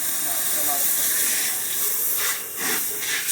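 A 5.5 gpm pressure washer spraying at around 2,000 psi with the trigger pulled, giving a steady, loud, close broadband hiss that dips briefly near the end.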